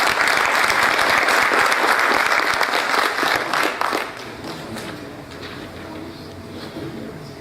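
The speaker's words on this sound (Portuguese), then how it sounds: "Uma salva de palmas ao senhor." Audience at a Brazilian heraldry and humanities award ceremony applauds an honoree, a loud, steady burst of many hands clapping that fades to a quieter tail after about four seconds.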